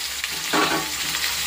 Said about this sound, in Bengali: কলাটা দিয়ে দেবো এখন, একটু ভাজা করে নেবো,